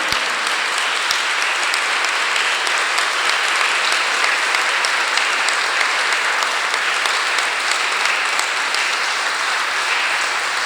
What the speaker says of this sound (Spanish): Vamos a darle un aplauso a ese papá, bien fuerte,